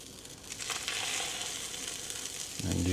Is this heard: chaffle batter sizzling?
yes